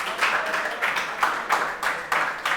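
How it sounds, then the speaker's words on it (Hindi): Students in a classroom lecture clap in a few loose, separate bursts, fairly close and moderately loud, with no one talking over them. "बजाओ तालियां भाई,"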